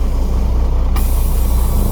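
A truck's tractor air brake valve is pushed in, giving a sudden sharp hiss of released air over the loud steady idle of a diesel engine.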